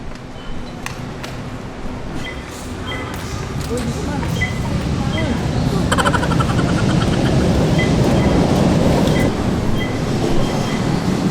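An LRT light rail train runs near Tayuman Station in Manila with a building roar and clattering wheels, growing louder and steadier, with faint chimes and voices in the background.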